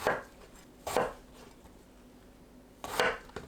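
Knife strokes slicing an eggplant lengthwise into quarters on a cutting board: three distinct cuts, one near the start, one just before the one-second mark and a final firm chop near three seconds, with quiet between.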